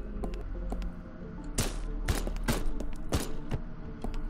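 Gunfire in the video game Haydee, a run of sharp, loud shots fired at uneven intervals, about seven distinct bursts over a few seconds against a low steady hum.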